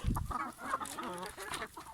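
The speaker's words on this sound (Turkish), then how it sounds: "Tavuklarımızı salma saatimiz geldi" Chickens cluck and squawk close by as they crowd at a coop door waiting to be let out, with a loud burst of low rustling or wing flapping at the start and steady overlapping clucks throughout.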